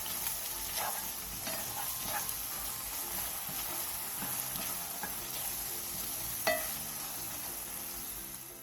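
Tomato sauce with sugar and pepper reducing in a pan, a steady soft sizzle and bubbling with a few small stirring clicks and spatters, alone with no talk.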